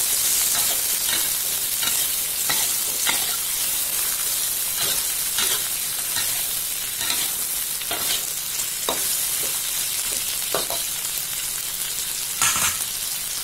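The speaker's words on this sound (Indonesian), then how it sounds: "Aduk hingga semua bahan tercampur rata." Green beans stir-fried in a pan with petai and anchovies: a steady loud sizzle runs throughout, broken by repeated scraping strokes as the ingredients are stirred together.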